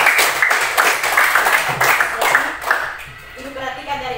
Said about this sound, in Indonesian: Oke baik, tepuk tangan kita semua.